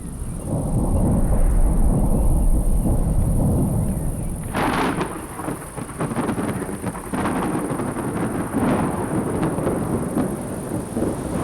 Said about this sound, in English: A typical summer thunderstorm is brewing.